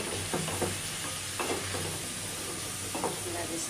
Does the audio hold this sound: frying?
yes